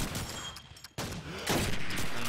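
Gunfire during a competitive Call of Duty 2 match: a few sharp shots after a brief silence, then a denser burst of loud gunfire near the end, with no voices.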